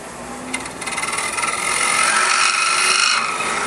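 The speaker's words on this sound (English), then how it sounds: "I went back to my multi-tool to finish it out" A rotary multi-tool grinds and shapes the hole inside a wooden ring, a close, loud, steady high-pitched buzzing rasp that builds in intensity and holds, with no talking.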